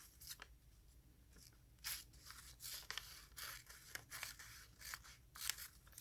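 Scissors cutting through paper designs, a series of quiet, close, crisp snips in an uneven rhythm.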